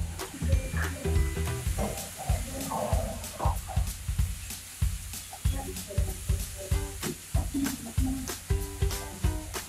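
Ingredients for dry paneer chilli sauté in a hot pan: a continuous sizzle broken by rhythmic, clattering strokes of a spatula, close and fairly loud throughout.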